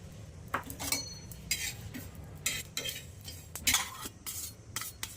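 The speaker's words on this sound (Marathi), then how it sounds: "मग पहिला आहे ना आपण कारळ भाजून घेऊया" Niger seeds dry-roasting in a pan, heard as intermittent bursts of spatula scraping and light rattling against the metal between quieter pauses, fairly faint and close.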